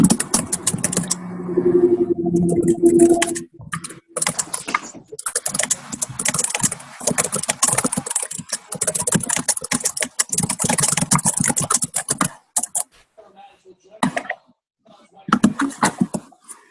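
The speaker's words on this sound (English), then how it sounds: "Hang on, I'm typing." A computer keyboard clatters in dense bursts of fast typing, close and loud, with brief pauses between runs and a low hum under the first seconds.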